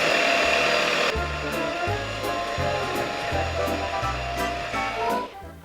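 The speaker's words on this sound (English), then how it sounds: "we're gonna do a pass with each of our 3 vacuums, starting with our low price vacuum" A low-price cordless vacuum cleaner running over flour on a carpet, a loud steady whine with rhythmic lower surges as it is pushed back and forth, cutting off at the end.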